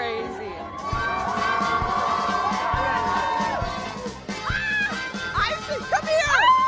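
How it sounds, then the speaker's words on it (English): A lively crowd cheers and shouts at an outdoor TV appearance in New Orleans, with children's voices, whoops and high excited cries rising toward the end, and speech mixed in. "That's why the crowd's going crazy."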